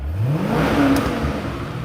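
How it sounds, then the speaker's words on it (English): A Chevrolet Corvette C8 engine revs through its exhaust, rising in pitch and growing louder as the RPM climbs, then holding a steady, throaty roar close by with no talk over it. "What do you guys think of that exhaust?"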